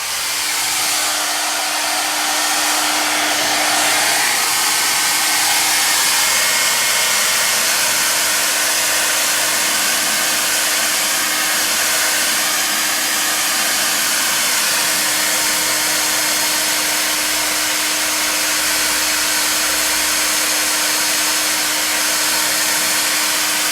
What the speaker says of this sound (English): that's just a cool hair dryer.